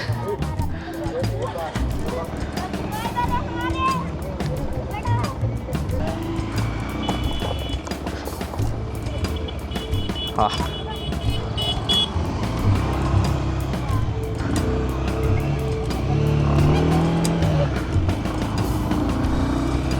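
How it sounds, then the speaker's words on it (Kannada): A 2026 Bajaj Pulsar 150 motorcycle with a catalytic converter rides along, its engine droning and shifting through gears under steady talk from a rider, with faint traffic noise around. "ಗೇರ್ ಎಲ್ಲ ಸ್ಮೂತಾಗಿ ಶಿಫ್ಟ್ ಆಗ್ತಾ ಇದೆ ಗೈಸ್. ಒಂಥರ ರೀಫೈನ್ ಆಗಿದೆ."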